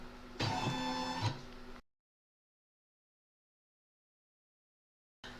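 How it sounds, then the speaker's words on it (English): A computerized embroidery machine moves its arm to the starting position with a steady mechanical whir of about a second and a half. Silence follows, then a brief resumption of the motor noise. "that's going to advance my embroidery arm to the start position"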